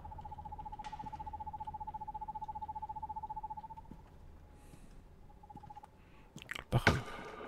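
A bird in the video game Perception gives a fast, steady trilling call that runs for several seconds, pauses, and briefly returns before a loud clatter. It sounds quiet and thin over a low murmur.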